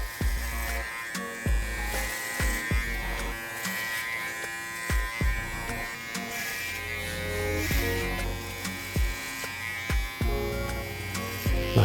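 Electric hair clippers set to a number 4 lever open cut curly hair for a high taper, a steady close buzz running throughout with brief sharp clicks and small shifts in pitch.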